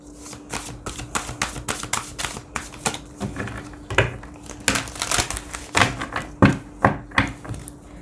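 Tarot cards being shuffled by hand, a rapid run of crisp papery riffles and flicks that come in close bursts, loud and near, with no talking over them.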